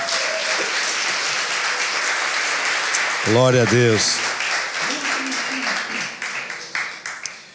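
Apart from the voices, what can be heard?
church congregation applause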